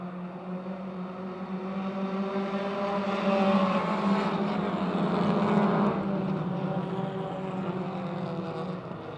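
Race cars at Motordrome Speedway pack together in a lap-two battle, their engines blending into a loud, sustained roar that swells midway and then eases. No voices are heard over it.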